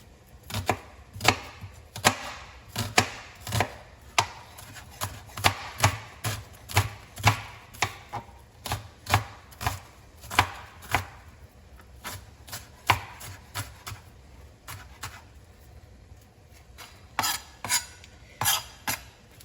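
Quick rhythmic knife chops on a cutting board as an onion is cut, a steady run of crisp close taps with a brief pause before a final burst, no talking.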